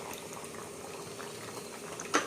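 A pot of kalagaya kura pulusu, a mixed-vegetable tamarind curry, bubbles steadily at a low simmer, with a brief louder clatter near the end.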